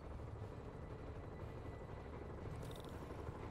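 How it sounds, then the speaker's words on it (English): Helicopters fly in Marvel's Spider-Man video game, a steady, loud rotor and engine rumble that fills the scene without a break, with no talk over it. "Bet I can use those helicopters to swing."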